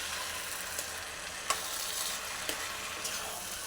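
Mango curry is stirred in a frying pan over a faint, steady sizzle, with a few light scraping knocks from the spoon against the pan, quiet and close with no talking.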